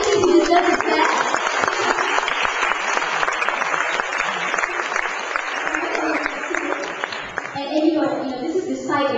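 An audience in a parliament chamber applauds in a steady wash of clapping that runs for several seconds, with voices mixed in and the clapping thinning toward the end.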